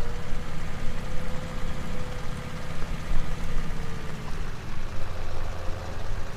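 A tractor engine idles steadily in Farming Simulator on a French countryside map, a low, continuous rumble with a faint whine, constant and close, with no one talking.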